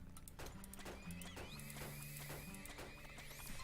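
Horses in the video game Turmoil clop and whinny over busy game music, with repeated hoofbeat-like thuds and a bright neigh, loud and steady throughout.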